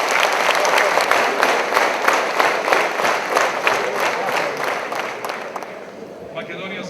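Audience applause fills the space with dense, sustained clapping from a large crowd, steady and loud before tapering slightly toward the end.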